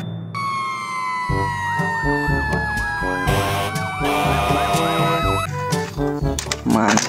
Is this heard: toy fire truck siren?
yes